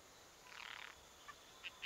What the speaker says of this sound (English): It does sound cute for a frog